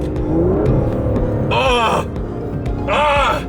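An Aston Martin DB11 sports car engine revs in two loud, rising bursts over a steady low rumble, heard close up from inside the car.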